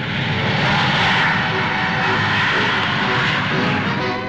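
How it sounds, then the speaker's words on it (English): A de Havilland Comet IV jet airliner takes off with a loud, sustained roar of jet engines, a broad steady rush that fills the whole stretch without pause and with no voices. "pioneer Atlantic flyers, Alcock and Brown, the British jet airliner now took off"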